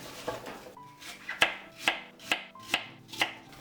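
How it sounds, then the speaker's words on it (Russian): A knife chops through a firm apple on a board in steady, evenly spaced strokes, about six crisp cuts close up with quiet surroundings. "Вот сейчас нарезаем на такие кусочки"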